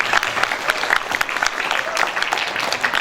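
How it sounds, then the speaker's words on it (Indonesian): Audience applauding children at an eighth-anniversary event of a Perisai Diri martial arts branch in Yehembang, with dense, steady clapping throughout, fairly close and lively, with no clear talk over it. "tepuk tangan dulu."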